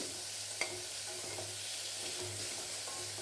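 Onions fry with salt in a pan under a soft, steady sizzle, with occasional light scrapes and taps of a spoon stirring them, close and fairly quiet.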